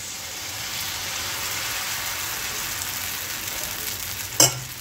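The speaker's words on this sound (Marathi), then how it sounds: "आणि आता याच्यात बॅटर टाकायचं आहे आपल्या उत्तपमचं" Thick rava uttapam batter sizzling on a hot pan, a steady close hiss of frying with a brief clatter near the end.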